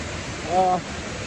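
A river in heavy flow pours over a waterfall, a steady, full rushing roar that stays constant throughout, with a brief voice sounding partway through.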